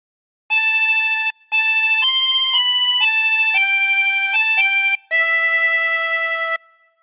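A chromatic harmonica plays a Silent Night phrase as a series of clear, sustained single notes, with one long final note and short breaths between some notes, heard up close with no talking.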